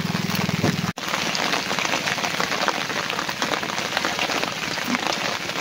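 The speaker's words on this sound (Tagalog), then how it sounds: "Ngayon maulan-ulan." Steady rain pattering on a surface outdoors during a fishing outing, a dense, even hiss of drops that continues throughout, with one brief dropout near the start.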